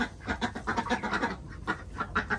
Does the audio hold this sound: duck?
yes